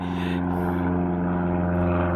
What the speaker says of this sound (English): Wow, that's right over my head.